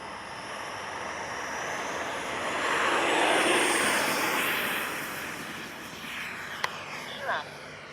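A twin 64mm electric ducted-fan Arrows RC F-15 model jet rolls down the runway on takeoff, its steady whooshing roar swelling as it nears and then fading, heard alone outdoors.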